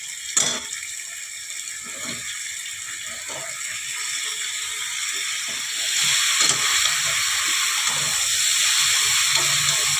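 Fish head and fresh vegetables sizzling in a pan for a Bengali rui fish chochchori, a steady hiss of frying with a few soft clinks and stirring sounds, close and fairly loud.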